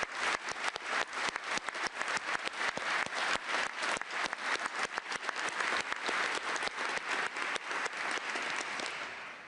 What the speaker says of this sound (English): I knew that Gwyneth would get the biggest clap.